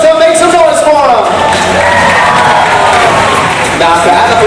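A live audience at a Fear Factor Live stunt show cheers, shouts and whoops for a competing team, a loud sustained crowd roar with excited voices and some children's yells throughout.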